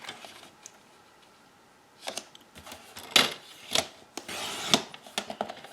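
A paper trimmer cuts cardstock for a handmade card, with a few soft scraping slides and small clicks close by after a quiet start.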